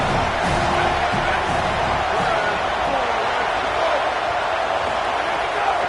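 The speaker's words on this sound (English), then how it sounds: "how nice is it to have the home crowd going absolutely bananas?" Home crowd at a football game roaring loudly in a sustained wall of cheering and shouting throughout, with a commentator talking over it.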